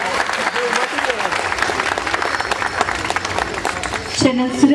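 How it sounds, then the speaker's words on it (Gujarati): Applause from the crowd at a Navratri garba night in a Surat residential society, dense and lively throughout, with voices talking underneath and a burst of louder noise near the end. "એક વાર જોરદાર તાળીઓ બધાય માટે પાડો"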